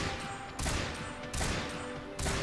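Heavy bowgun from the Monster Hunter video game firing in three heavy bursts roughly every three-quarters of a second, each a sharp broadband blast with a rumbling tail over steady game background noise.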